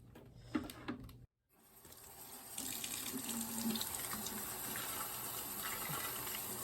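Running water pours steadily into a sink, carrying rusty water gurgling down the drain, a continuous close splashing rush after a brief pause at the start.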